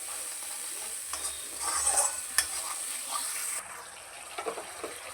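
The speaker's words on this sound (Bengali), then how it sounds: "মশলাটা খুব ভালো করে কষিয়ে নিতে হবে যতক্ষণ না মশলা থেকে তেল ছাড়ছে" A spice paste (masala) fries in oil in a pan with a soft continuous sizzle, broken by intermittent stirring scrapes and clinks from a spoon against the pan, close and fairly quiet with no voices.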